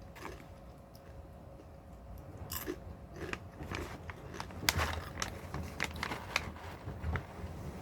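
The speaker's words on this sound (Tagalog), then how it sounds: "Dinig na dinig niyo yung crunchy" Crunchy snacks chewed close to the mic, with a steady series of crisp bites and crunches over quiet background noise and no talk.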